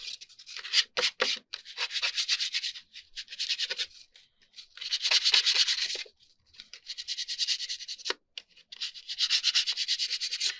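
A coated card surface is roughed up by hand in short, scratchy rubbing strokes, several bursts separated by brief pauses, close and fairly quiet with no talk.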